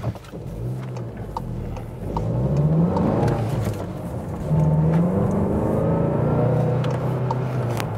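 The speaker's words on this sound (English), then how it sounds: "Such a nice acceleration and you know the, the engine sound, yeah it's only a 2 liter turbo" A Volkswagen Golf GTI Clubsport's 2-liter turbo engine revs up as the car accelerates, the pitch climbing in two rising pulls, heard from inside at steady loudness.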